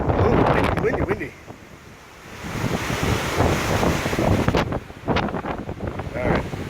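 Strong Hurricane Irma winds buffet outside a house, roaring loudly in gusts against the microphone, dipping briefly before surging back with hard, blustery bursts.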